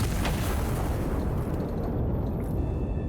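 A single loud artillery gun in the video game Iron Nest fires with a heavy, booming blast that rolls on and slowly decays, alone without any voices.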